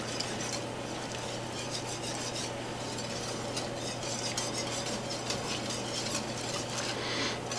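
Milk stirred into biscuit gravy made with lard in a pan on medium heat: a continuous close scraping swirl over a faint sizzle, steady throughout with no talking.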